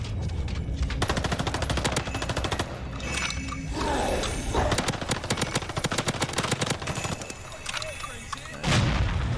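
Rapid automatic gunfire from the video game Warzone Pacific, with loud sustained bursts of shots running through nearly the whole stretch and a heavier boom near the end.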